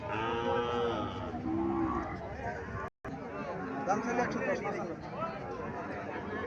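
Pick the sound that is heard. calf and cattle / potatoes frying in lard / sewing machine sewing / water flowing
calf and cattle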